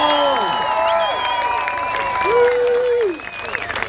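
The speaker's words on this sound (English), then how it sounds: "Big round of applause!" Audience applause and cheering for the winning team at a District L 2018 contest, sustained crowd clapping with whoops and shouting voices layered over it, fading slightly near the end.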